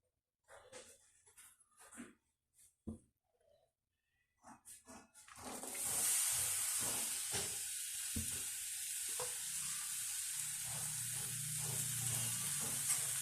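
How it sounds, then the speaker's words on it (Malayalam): Ginger and green chillies dropped into hot coconut oil for an Onam ginger curry, starting with a few handling knocks and scrapes, then a loud, steady, close sizzle that carries on to the end. "വെളിച്ചെണ്ണ ചൂടായി വരുമ്പോൾ നമുക്ക് അതിനകത്തേക്ക് ഇഞ്ചിയും പച്ചമുളകും ചേർത്ത് കൊടുക്കാം"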